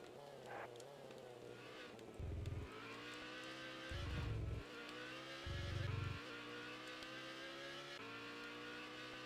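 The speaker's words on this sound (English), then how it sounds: "I like the sound design of this game. This engine doesn't sound particularly great." Race car engine in the TOCA 2 touring car racing video game, a steady droning whine with three louder bursts of low revving, continuous throughout and with no talk.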